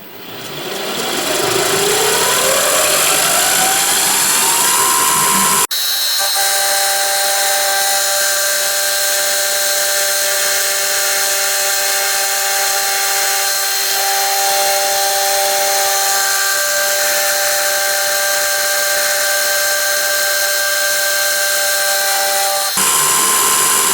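A milling machine spinning up and then cutting a chamfer pass, a loud sustained high-pitched whine with steady tonal ringing that holds evenly for about twenty seconds before the cut ends.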